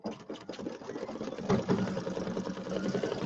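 An embroidery machine stitches a tack-down line in black thread for a Halloween settee pillow, a steady close mechanical whir with rapid needle pulses and no voices.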